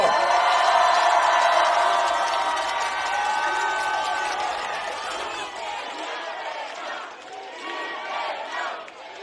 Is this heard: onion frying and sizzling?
no